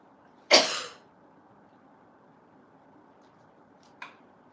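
A single sharp cough bursts out close by in a quiet room, followed a few seconds later by a brief, softer throat sound.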